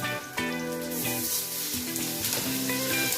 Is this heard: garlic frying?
yes